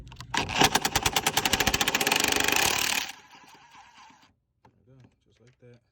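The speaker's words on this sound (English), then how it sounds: "I'm using the drill" A power drill drives a socket on 12 mm bolts of a 2007-2017 Lexus LS460, revving in a loud rattling burst for about three seconds, then stopping, followed by quieter tool clatter.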